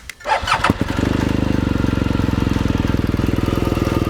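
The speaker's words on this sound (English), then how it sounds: "I'm gonna actually turn on the ignition and I'm going to listen to the engine." A motorcycle engine cranks and catches, then settles into a steady, rhythmic idle close by.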